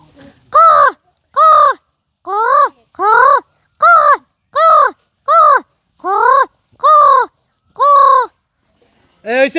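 A voice mimics a crow's caw, repeating roughly ten short, harsh, evenly spaced caws close to the listener, loud and clear against a quiet background.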